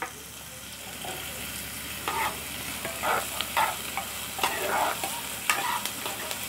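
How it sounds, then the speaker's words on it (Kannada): Onions and curry leaves sizzle in a pan for a sprouted-bean palya, a steady frying hiss broken by occasional scraping stirs of a spoon. "ಈರುಳ್ಳಿ ಸ್ವಲ್ಪ ಗೋಲ್ಡನ್ ಕಲರ್ ಬರಬೇಕು, ಅಲ್ಲಿವರೆಗೂ ಫ್ರೈ ಮಾಡಬೇಕು."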